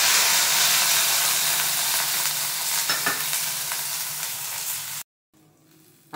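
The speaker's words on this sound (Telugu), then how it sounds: "ఆయిల్ కొంచెం హీట్ అయ్యాక జీలకర్ర, అల్లం పచ్చిమిర్చి కూడా వేసి వేయించేసుకోవాలి" Cumin seeds, ginger and green chilies sizzle loudly in hot oil in a pan, a dense, steady crackle with stirring that cuts off abruptly near the end.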